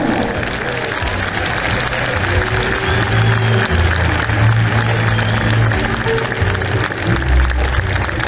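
A crowd at a bull-dodging recorte contest in Valencia claps and cheers, dense continuous applause with scattered shouts and voices mixed in.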